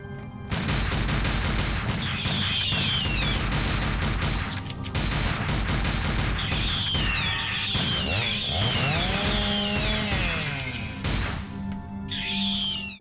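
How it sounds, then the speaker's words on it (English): Arcade shooter Silent Hill combat with Robbie the Rabbit enemies attacking using chainsaws and guns: a loud, dense barrage of buzzing saw-like whines, rapid gunfire bursts and crashing impacts, continuous and chaotic with no speech. "Robbie the Rabbits will try to kill us. With guns, chainsaws, tossing axes our way"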